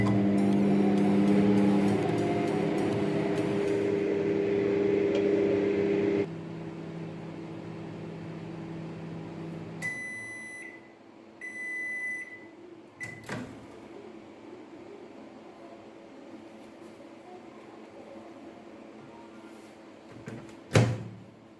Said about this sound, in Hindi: अब हम लोग अपने कंटेनर को जो है माइक्रोवेव में रखते हैं एंड इसे 15 to 20 मिनट के लिए टाइमर सेट कर देंगे।